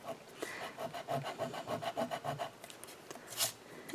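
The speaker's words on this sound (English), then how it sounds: "This is like a little sanding eraser." A small sanding eraser rubs back and forth on paper during card-making, making quiet, close, rhythmic scratchy strokes, about a dozen in quick succession, with no talking.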